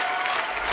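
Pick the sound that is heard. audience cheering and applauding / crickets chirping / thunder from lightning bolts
audience cheering and applauding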